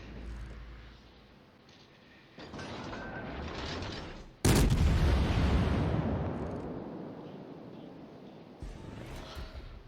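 Naval guns firing in World of Warships, a rumbling lead-in, then a huge booming salvo that rolls and slowly fades, followed by a lighter blast near the end, loud and close with no talking.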